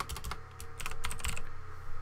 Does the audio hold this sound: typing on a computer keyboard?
yes